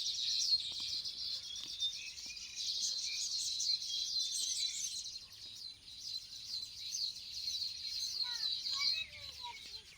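Sparrows chirp near their nest in a steady, busy chatter of high twittering calls, faint and somewhat distant, continuing throughout with a few clearer calls toward the end.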